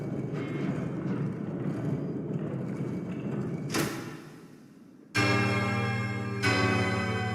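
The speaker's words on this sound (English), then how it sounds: "Big bells." Big bells ring in the video game Silksong: after a low rumbling stretch and a thud, deep resonant bell strikes sound loudly, two chimes ringing out and sustaining.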